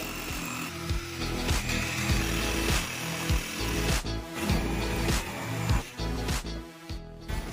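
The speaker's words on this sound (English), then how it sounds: "Started by drilling a hole with a 3/8 bit to create the starting point." A power drill with a 3/8 bit whirs steadily, its motor buzzing with repeated clicks and knocks as the bit bores through wood, close and fairly loud.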